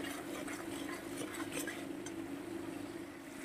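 Spice paste with turmeric and salt is stir-fried in a pan, a soft steady sizzle with faint scraping and stirring under it, quiet and continuous throughout.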